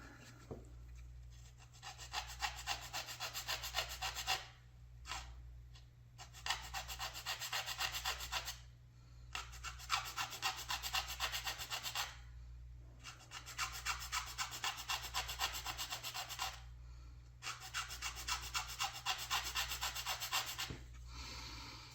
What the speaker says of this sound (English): Now I'm just going to sand it down.